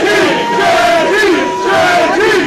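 A wrestling crowd at an ECPW live event at Greenwood Lake cheers and chants for wrestler JT Metal: two loud, rising chant phrases in unison from a packed audience.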